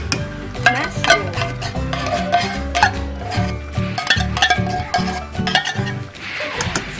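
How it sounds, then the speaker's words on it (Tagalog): Creamy beef with mushroom is stirred in a pan, with repeated scraping strokes and clinks of a utensil against the metal, close by and rhythmic, over a faint sizzle. "Hahaluin mo lang siya para hindi masunog"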